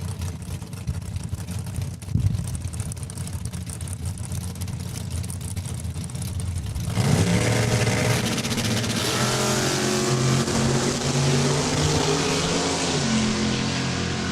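A 1966 Chevelle and a Chevy S10 drag race down the quarter mile at a Saskatchewan raceway: low engine rumble at first, then a loud surge of revving engines from about seven seconds that holds strong as the cars accelerate away.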